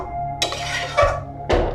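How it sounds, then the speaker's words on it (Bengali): Mutton for Kashmiri laal maas is stirred in a pan, with three distinct metallic scrapes and clinks of a spoon against the pan over a low sizzle. "এবার আমি এটাকে ভালো করে কষিয়ে নেব।"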